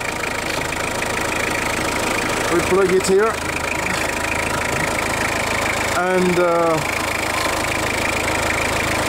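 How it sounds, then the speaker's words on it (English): A diesel engine runs steadily with water vapor mixed into its oil, a constant mid-pitched idle drone heard close up, with someone talking over it in two short bursts. "the engine now is very, very powerful"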